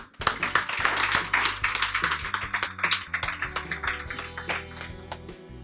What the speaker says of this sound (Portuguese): Um aplauso para vos.